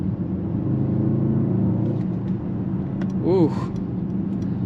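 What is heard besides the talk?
Mercedes-AMG GLE 63 S Coupe V8 engine roaring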